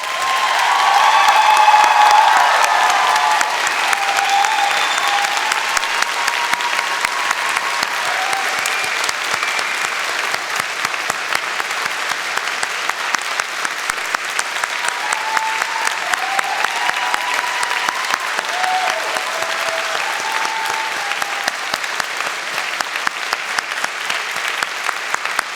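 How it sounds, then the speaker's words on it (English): Sustained applause from graduates at a university convocation ceremony, a broad, steady wash of many hands clapping in a large hall, loud at first and then holding evenly for a long stretch, with faint cheers scattered within. "Graduates, a round of applause."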